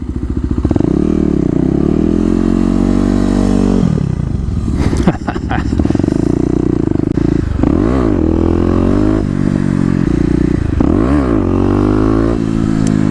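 A Kawasaki KLX250 motorcycle does a burnout, its single-cylinder engine revving hard and loud in rising and falling surges, with brief clattering scrapes partway through as the tire spins close by.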